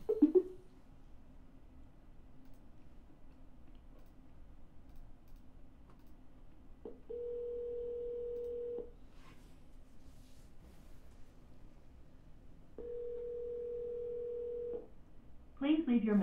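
Telephone call placed twice in a row: a brief click, then two long steady ringback tones separated by a quiet pause, followed by a burst of voice as the line picks up at the end.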